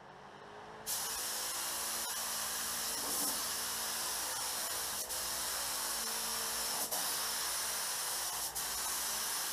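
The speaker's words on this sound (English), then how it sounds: "So let me mix it up and get ready to spray it." A spray gun at 35 PSI lays clear coat on a 2000 Chevy Silverado in a continuous loud, even hiss that starts abruptly after a short quiet moment and runs on with slight pauses.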